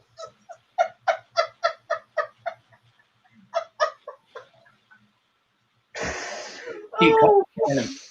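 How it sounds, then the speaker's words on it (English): Several rough, harsh coughs burst out near the end after a run of rhythmic, clucking vocal sounds; loud and close. "Keep coughing like that and you'll sound like Joe Cocker."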